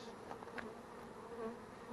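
Honey bees dumped onto a sheet from a water meter box buzz in a soft, continuous drone, faint and close, with no voices.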